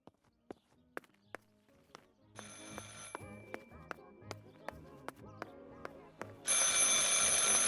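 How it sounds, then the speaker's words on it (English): Telephone ringing in the horror video game Martha Is Dead, a bright ring cutting in over quiet footsteps and tapping, growing louder toward the end with no talk. "I should pick up the phone but remain silent."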